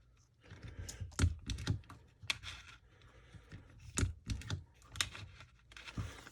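A hand punch tool snaps through sheets of parchment paper in a crafting session, giving a series of sharp, close clicks and crunches at irregular intervals, fairly quiet, with no one talking.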